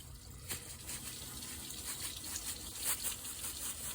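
Tap water running into a cooking pot being filled to boil fettuccine, a faint, steady gushing trickle with small splashy bursts, no voices.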